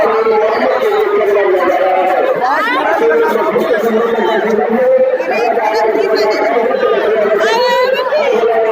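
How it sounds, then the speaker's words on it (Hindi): Dense, continuous crowd chatter at a Sufi Malang gathering in India, many voices babbling close by with occasional laughter. "बहुत भीड़ है।"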